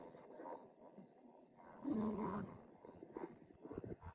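A dog growls quietly at close range in a short rumbling run that swells midway, then softer grumbles, with no talking.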